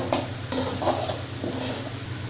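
A spoon stirring fried eggs into an egg pepper fry in a pan, with scraping and light clinks over a steady sizzle, close and fairly loud, with no talking.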